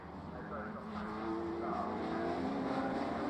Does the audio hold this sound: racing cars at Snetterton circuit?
yes